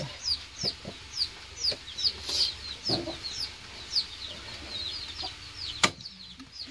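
A duck gives a series of short, high calls in a quick, uneven rhythm, fairly close, with a few soft knocks and bumps underneath.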